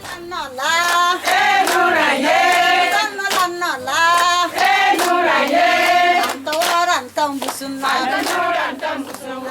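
Women singing and cheering joyfully with loud, high wavering voices, punctuated by bursts of hand clapping, a continuous and exuberant group sound that stays close and loud throughout.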